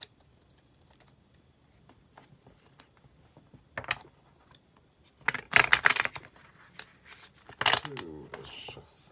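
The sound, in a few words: shuffling tarot cards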